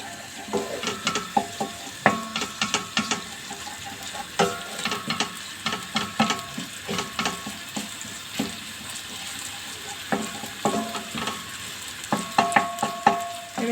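Pepper paste stirred and frying in a pan, with soft sizzling under repeated scraping and clinking strokes from a spoon against the pan, close and fairly steady, no voices.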